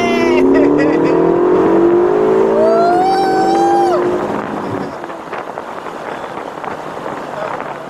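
A Ferrari California T with a 560 cv engine accelerates hard, its engine note climbing loud and close for about four seconds before easing into wind and road rush, with voices heard in the car.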